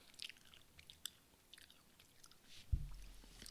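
Crunching and chewing of candy from a candy subscription box, a few soft close crunches and chews in a quiet room, with one louder bite toward the end.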